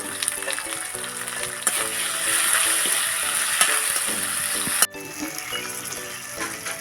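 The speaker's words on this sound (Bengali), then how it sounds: "লঙ্কা টমেটো আমার এখানে ভাজা হয়ে গেছে তেলের মধ্যে আর এখানে দিয়ে দেবো ক্যাপসিকাম লঙ্কাটা" Chili, tomato and capsicum frying in oil in a pan, giving a loud, constant close sizzle with occasional utensil clinks, abruptly dropping to a quieter hiss partway through.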